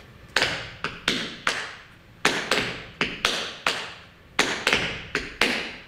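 Tap shoes striking a hard floor in short riff steps, crisp percussive clicks and thuds in uneven pairs and clusters, close and clear with no talking.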